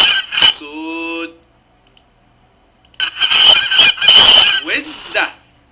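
Goose honks in two bursts, a single harsh call followed by a louder, longer run of repeated honks after a short silence, close and clear with no talking.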